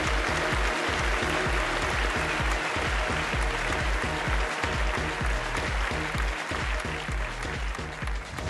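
An audience applauds at a formal event honoring India's Minister of Civil Aviation, steady loud clapping with a regular pulsing beat underneath, continuing for several seconds without a pause.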